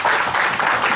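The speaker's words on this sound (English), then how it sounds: "Give them a round of applause." Audience applause at a city council candidate forum, a brief dense burst of many hands clapping, loud and continuous.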